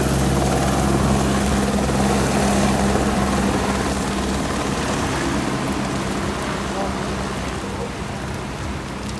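A helicopter at a helipad on the Char Dham pilgrimage, its loud, continuous rotor and engine roar filling the whole stretch and easing off only slightly toward the end.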